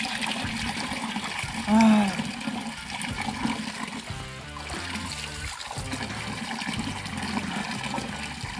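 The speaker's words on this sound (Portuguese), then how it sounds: "Água da fonte, água direta da fonte, ó." Spring water pours straight from a natural fountain in a municipal park in Bangu, Rio de Janeiro, a continuous splashing trickle close by. A brief voiced exclamation rises over the flow near the start.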